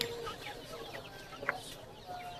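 Silkie chickens at a bustling bird market give scattered clucks and a brief sharp call among other faint bird chirps and background crowd murmur.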